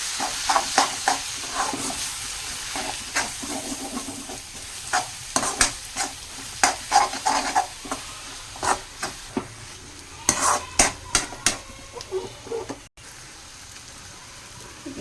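Onions and spices for egg curry sizzle in a pan while a spoon scrapes and stirs in quick, irregular strokes. The sizzle stays close and steady throughout, with no talking.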